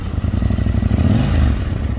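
A Husqvarna Norden 901 motorcycle riding off-road through bush, its engine rumbling steadily up close with some clatter from the bike.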